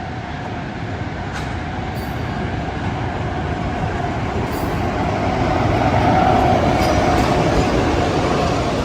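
The Uzhhorod–Kharkiv passenger train rolls into a station platform with a steady, loud rumble of wheels and carriages that swells as it nears, with faint metallic squeals over the continuous rolling noise.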